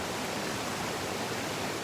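A mountain stream on Bukhansan flows with a steady, dense rushing wash of water, constant and fairly close, with no voices over it.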